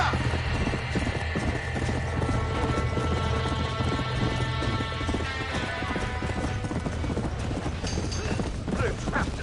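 Trapped horses in a burning barn in Red Dead Redemption, with steady clattering hooves and repeated whinnies, loud and close, while voices talk in the background.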